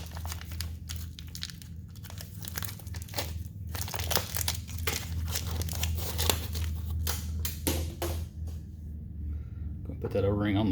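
Plastic packaging for a motorcycle brake part, holding a tiny O-ring, crinkles and tears in close, rapid bursts, with steady crumpling throughout.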